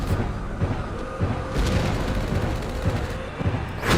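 Gunfire and booming explosions from the Mecha Knights Nightmare video game, with heavy blasts and rattling shots rolling continuously and loudly, and a big burst near the middle.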